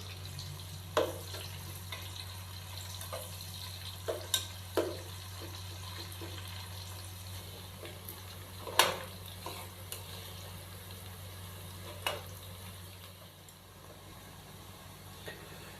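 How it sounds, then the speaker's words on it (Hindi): Two finely chopped medium onions fry in oil with a soft, continuous sizzle, broken by occasional stirring clicks over a low steady hum. "प्याज को हम लाइट ब्राउन कर लेंगे।"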